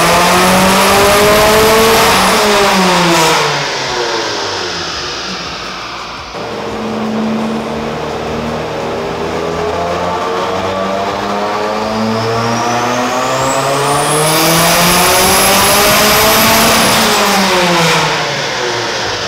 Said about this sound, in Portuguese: vamos pro dinamômetro acelerar